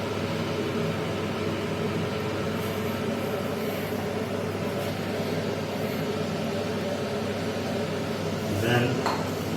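Cooked rice is spooned onto vegetables in a frying pan while making vegetable biryani, giving a steady rattle and clink of utensils against the pan over a constant background hiss.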